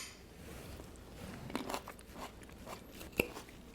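Someone bites and chews a mouthful of crunchy chickpea Greek salad with arugula and kalamata olives. A few sharp crunches come up close over a quiet background, with no talking.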